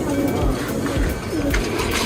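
A Bagha green-necked pigeon coos in low, steady, murmuring rolls close by, over a constant dense background of other birds.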